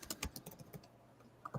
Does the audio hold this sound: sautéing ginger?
no